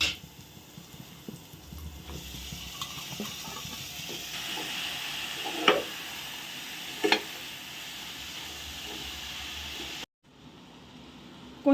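Chukka kura (sorrel greens) go into hot oil in a pan, giving a steady close sizzle with scattered stirring clicks and taps that cuts off briefly near the end.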